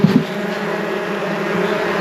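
Swarm of bees being moved, a loud close steady buzzing drone with a brief louder burst at the start, no voices.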